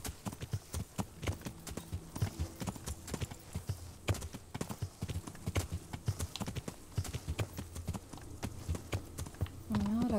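Horse hooves clip-clop steadily on the ground while riding in the medieval video game Kingdom Come: Deliverance, a close, rhythmic patter of hoofbeats with a brief tonal sound near the end.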